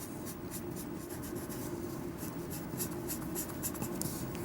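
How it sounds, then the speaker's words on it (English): A pencil shades a drawing on paper in continuous close scratching strokes, a steady dry rasp with rhythmic flicks of the lead. "I'm gonna have some shadows, and I'm just gonna use my pencil"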